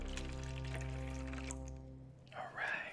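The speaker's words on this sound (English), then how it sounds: "250 grams of water into the pot" 250 grams of water poured into a pot for a cocktail syrup, a sustained resonant pouring tone that fades out, followed by a couple of brief splashy rustles near the end.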